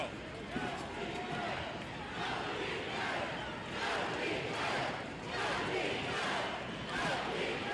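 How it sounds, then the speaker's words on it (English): A crowd at a 1976 televised pro wrestling match chants and roars in a large arena, a dense, loud, pulsing wash of voices that swells in waves, with a commentator's voice running over it. "The crowd again beginning to chant."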